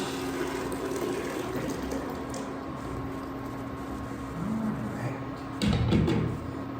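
Blended chicken tortilla soup mixture poured from a blender into a pot, a continuous thick liquid wash with a louder gush near the end, close and steady.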